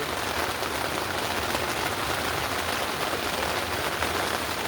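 Rain falls steadily on a tent at a camp on Mount Sindoro, a dense, even hiss of drops pattering close on the fabric and filling the whole stretch without pause.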